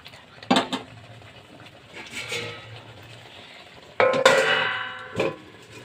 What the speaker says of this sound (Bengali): এখন আমি এটাকে 5 মিনিটের জন্য ঢাকনা দিয়ে রেখে দেব।